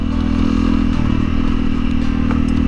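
A 2021 Honda CRF 300L motorcycle being ridden, a loud, steady engine drone with constant rumble and faint clatter throughout, no voices.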